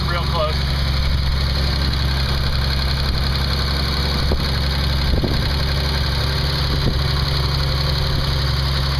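A 1968 Triumph Spitfire engine with electronic ignition idles steadily while warming up, a close, even mechanical rumble holding constant the whole time with a couple of faint clicks and no talk.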